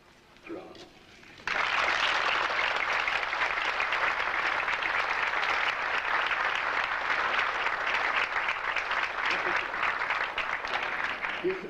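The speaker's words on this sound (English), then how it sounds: "Let us give her a warm round of applause" Warm, sustained applause from a large conference audience in Moscow honoring the First Lady of the USSR, bursting in loudly after a brief quiet moment and continuing steadily throughout.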